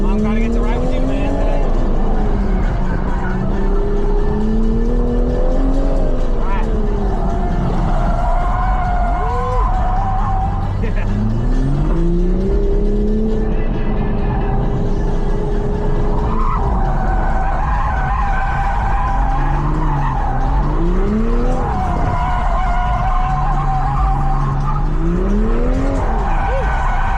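Toyota A90 Supra drifting at a drift-cross demo, engine roaring and revving with rising and falling pitch while tires squeal and skid almost nonstop, heard loud from inside during a ride-along with people talking over it.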